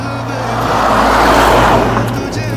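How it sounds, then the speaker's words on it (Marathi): A car passing on a mountain road on the way to Aadi Kailas near Gunji, an engine hum and tyre roar that builds to a close peak and fades away. "आणि आता गाड्या येत आहेत"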